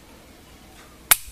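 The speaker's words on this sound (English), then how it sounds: "So when you draw this firearm, pop the safety off, pull the long trigger," A Beretta 92 9mm pistol's hammer drops with one sharp, close metallic snap after a quiet moment, standing alone in a hushed room.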